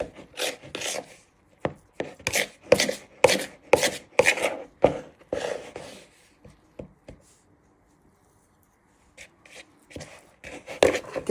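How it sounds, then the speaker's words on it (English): A knife beats and chops a meat pie filling for a Nigerian meat pie so it binds together, with a steady run of sharp, close thuds, a pause, then a few more taps. "you just want to give that a good beat. With your knife, so it all comes together"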